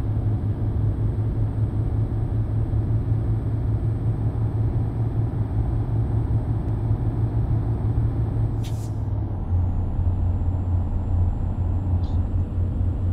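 An old Mercedes-Benz O-362 monobloc bus engine drones steadily from inside the cabin, a loud continuous low rumble with a short hiss partway through, no talk.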